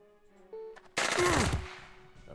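Gunfire rings out in the game Jagged Alliance 2: a loud, rapid burst of automatic shots lasts about half a second, then fades into a ringing tail.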